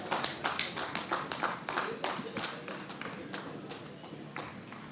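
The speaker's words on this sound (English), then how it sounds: "A very big round of applause to the chief guest" Graduation ceremony audience applauding for the chief guest, a moderately distant spread of many individual claps that is steady at first and gradually thins and fades.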